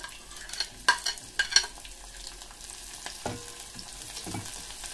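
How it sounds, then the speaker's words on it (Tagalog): Chopped onion with garlic is stirred and sautéed in a pan while cooking beef pares, giving a soft, steady sizzle broken by a few sharp spatula scrapes and knocks near the start. "Ituloy lang po ang halong nito hanggang sa lumambot ang sibuyas."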